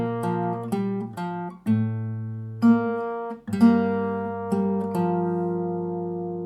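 Fingerstyle acoustic guitar picking the opening of 10,000 Reasons, a short phrase of plucked notes and ringing chords starting from G, close, clear and unhurried, with no voice.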